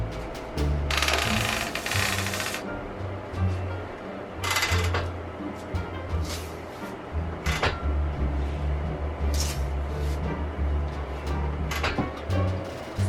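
Longarm quilting machine stitching down fabric: loud, rapid mechanical chattering in several runs separated by brief pauses, with occasional clunks and thumps, and no talk.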